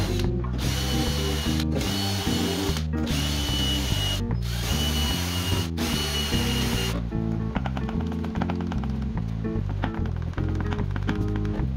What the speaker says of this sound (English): I drill guide holes and then screw them on